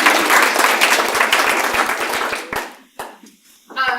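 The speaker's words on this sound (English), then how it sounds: "Can we applaud our..." An audience applauds steadily after a masterclass talk at a university, with dense clapping that fades out and gives way to a few scattered claps and brief noises near the end.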